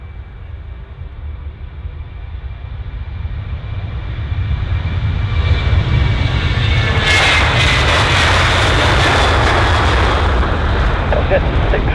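An Aer Lingus Airbus A320 jet taking off at Bristol Airport, its engine roar building steadily from a distant rumble to a loud, sustained thundering blast.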